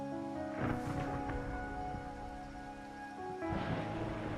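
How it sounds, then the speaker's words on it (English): Steady rain falls in a city within the video game Wuthering Waves, a dense continuous hiss under soft game music, with brief swells near the start and again toward the end. "And also, it's raining"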